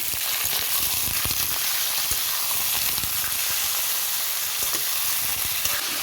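Pork intestine hits a hot pan and sizzles loudly and continuously, a dense close frying hiss with scattered crackling pops, cooked Bodo style.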